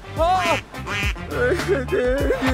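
Loud, close duck quacks in a quick irregular series, several nasal honks overlapping.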